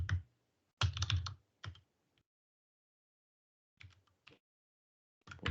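Computer keyboard typing in short bursts of rapid, close, crisp key clicks separated by silent pauses, no talking over it.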